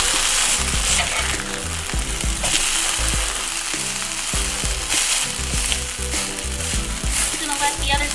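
Hash browns sizzle loudly and steadily in a pan after being flipped, with a dense close crackle and occasional tapping of a utensil.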